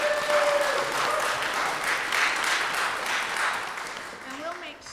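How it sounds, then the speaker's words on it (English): Audience applause at an Education Department signing day ceremony, a sustained wash of clapping that tapers toward the end, with a voice faintly present underneath. "let's give her a round of applause"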